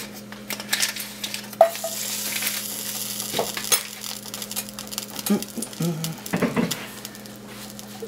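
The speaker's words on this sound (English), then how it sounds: "We're going to heat up our cast iron and add a little bit of olive oil and butter." Olive oil and butter sizzle in a hot cast iron pan. The soft, steady hiss is broken by scattered metallic clinks and stirring scrapes from utensils.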